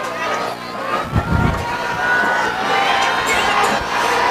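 Home crowd at a high school football game between Northview Academy and Austin East, a dense, steady roar of cheering and shouting voices lasting throughout, with a louder swell in the middle.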